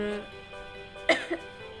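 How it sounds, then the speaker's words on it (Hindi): A single short cough rises sharply out of quiet room noise, followed by a brief softer exhale. "मुझे बीच बीच में खांसी आ रही है"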